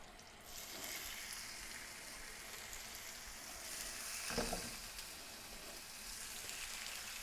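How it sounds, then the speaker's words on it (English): Steady, close sizzling of a salmon fillet searing in a hot pan, a continuous crackling hiss with a brief louder spatter midway, no voices. "Hear that beautiful sizzle."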